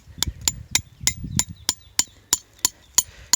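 Sharp, evenly spaced hammer strikes, about a dozen in a steady rhythm, loud and close, with no talking, while tapping a maple tree.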